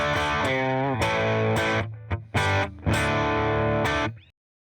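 An electric guitar played through a BD2 overdrive pedal with the drive turned up, ringing out loud, sustained distorted chords and notes close up, ending with a fade to silence.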